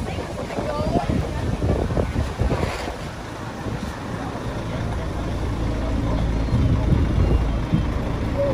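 Strong wind gusts buffet the microphone outdoors at Minh Thanh Pagoda in Pleiku, Gia Lai, as a loud, roaring rush that swells and eases throughout.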